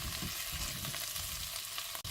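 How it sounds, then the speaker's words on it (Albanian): Potatoes and carrots fry in a pot for chicken soup, giving a continuous close sizzle with light stirring noises throughout the short stretch. "Fërgojmë vetëm edhe pak, derisa edhe karotat edhe patatet të marrin një ngjyrë të bukur"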